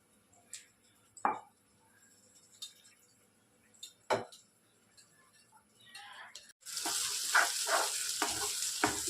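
Stuffed brinjal curry (gutti vankaya) cooks in a pan, with scattered utensil clinks at first, then a steady close sizzle of frying that swells in the final few seconds.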